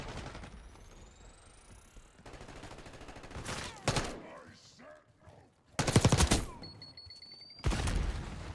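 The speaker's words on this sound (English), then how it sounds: "Now I can't shoot straight." Bursts of rapid automatic gunfire from a Jackal PDW submachine gun in the video game Black Ops 6, several sharp loud volleys separated by quieter stretches of game ambience.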